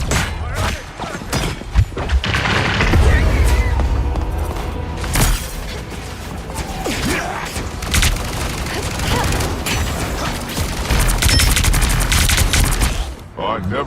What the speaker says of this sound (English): Take cover. We got a sniper.